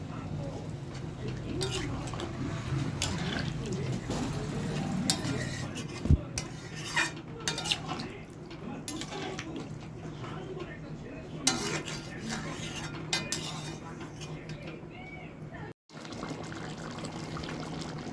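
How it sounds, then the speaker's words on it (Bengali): Coconut milk is poured into a pot of pointed gourd and potato curry, with soft trickling and splashing mixed with clinks of a utensil against the pot, and muffled talk in the background. "এবার আমি নারকেলের দুধটার মধ্যে ঢেলে দিচ্ছি"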